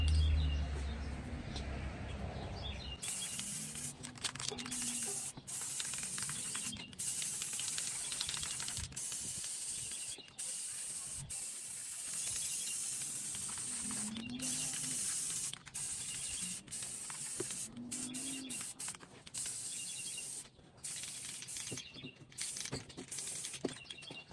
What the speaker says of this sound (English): Now, let's spray the entire canvas black.